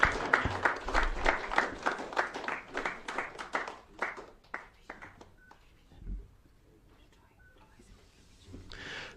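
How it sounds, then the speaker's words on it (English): Applause at the 'Best of Kenya' book launch, a burst of clapping that is loud at first, then thins to scattered claps and fades, with faint voices murmuring in the room. "Another round of applause, please."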